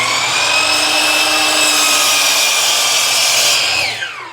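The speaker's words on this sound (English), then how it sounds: "So I'm just going to cut that real quick" A miter saw cuts a board for a bedside book caddy, its motor whining loud and steady up close for several seconds before the blade spins down at the end.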